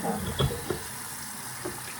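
Lukewarm water runs from a tap into a sink while dolls are being washed, a steady close hiss with a few splashes and knocks at the start, then an even flow.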